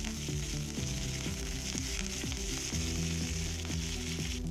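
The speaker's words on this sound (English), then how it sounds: "Next, I add cumin seeds and curry leaves and toast them for 5 seconds." Cumin seeds and curry leaves toast in hot oil with a steady close sizzle and spitting crackle, accompanied by a melodic background music track, no speech.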